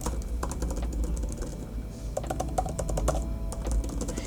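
Typing on the keyboard of an M4 iPad Pro produces soft, quick, close key clicks in an irregular patter, steady throughout without talk.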